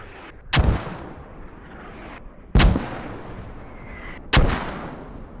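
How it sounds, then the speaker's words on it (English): Three heavy mortar shells land downrange in the military shooter game Squad, each a sharp booming impact followed by a long rolling echo, spaced about two seconds apart with no talk. "so that's enough of the mortars"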